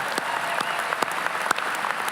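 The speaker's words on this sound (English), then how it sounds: "Yeah, we can clap for that." Audience clapping at a spring university commencement ceremony, a steady wash of applause from a large crowd with a few sharper individual claps standing out.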